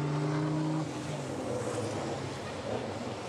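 An Iveco race truck covers the last few metres to the finish of a European truck race in Budapest. It is a steady, fairly distant engine roar that holds a low tone at first and then fades into a broad rushing wash.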